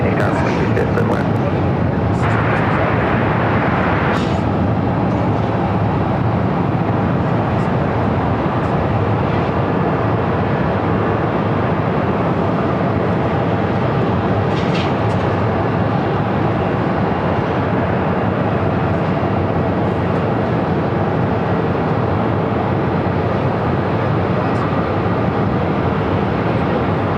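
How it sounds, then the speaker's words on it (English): An American Airlines Airbus A321neo on arrival at Phoenix airport from Philadelphia gives a loud, steady jet roar that holds at constant strength the whole time, with a few faint brief sounds over it. "It's the flight coming in from Philadelphia on this A321 Neo"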